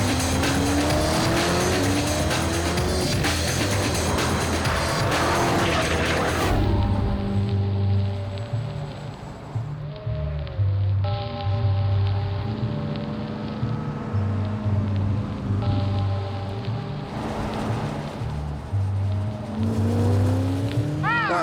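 Koenigsegg CC8S supercar tearing flat out down a wide runway, its engine roaring loud and close with rising gear-change sweeps, then a steadier high-speed drone with wind rush as the car passes and continues accelerating.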